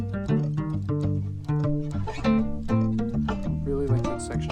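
A looped music sample with plucked guitar notes over steady percussion hits. It plays busy and rhythmic at a moderate level throughout.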